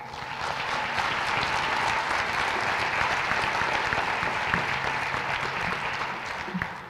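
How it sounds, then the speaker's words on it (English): An audience at a Teacher of the Year awards applauds teacher Angela Haycock, a steady, even stretch of clapping that swells in and tapers off slightly at the end. "Join us in applauding Angela Haycock"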